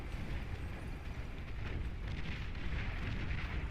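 Flak anti-air fire in the strategy game Beyond All Reason, a dense, rumbling barrage of rapid thudding bursts that continues steadily at moderate volume.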